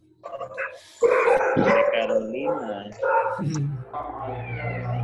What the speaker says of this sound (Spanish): esos perros son míos